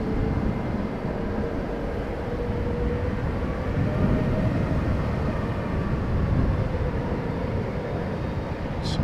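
A steady, broad engine roar from an aircraft arriving or departing on the Oostbaan runway at Amsterdam Schiphol Airport, heard at a distance as a continuous rumble that holds at an even level throughout.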